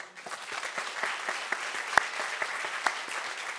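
A seated symposium audience in Japan applauds the panel speakers and moderator with steady, moderately distant clapping, a few sharper claps standing out.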